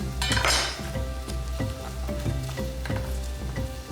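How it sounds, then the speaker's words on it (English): Cumin and star anise sizzle loudly in hot oil with aromatics, a continuous fry broken by a few light clinks and stirring scrapes against the pan. "Saute them with your aromatics."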